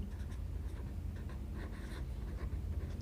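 Someone writes on a board during a physics lesson, producing continuous scratchy strokes that pulse in short bursts over a steady noisy background, with no talking.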